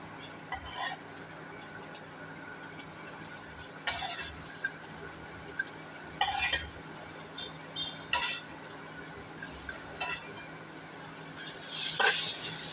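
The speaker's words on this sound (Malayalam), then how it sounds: "ഇനി നമുക്ക് ഇതിലേക്ക് നമ്മുടെ വറുത്ത് വച്ചിരിക്കുന്ന നമ്മുടെ ടൊമാറ്റോ ചേർത്ത് കൊടുക്കാവേ" Fried tomato tipped into a pan for tomato curry and stirred, with scattered scraping and clinking of a spoon against the pan over a faint sizzle, the strokes irregular and fairly close.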